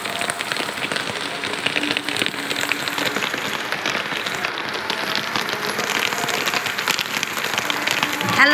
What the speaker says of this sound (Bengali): বৃষ্টিও থামার কথা কিন্তু থামতেছে না